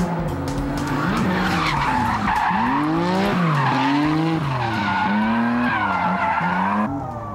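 A drift car's engine revs hard up and down in repeated surges with screeching rear tire wheelspin, loud and close throughout.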